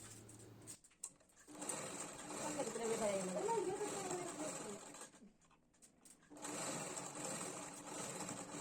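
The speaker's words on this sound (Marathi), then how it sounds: "आता त्याच्यावरती आपल्याला डबल शिलाई करून घ्यायची आहे." Sewing machine running a second row of stitching along the front panel of a blouse: a steady whirring hum that stops briefly around the one-second mark, slows again near five seconds, then resumes, with soft speech between runs.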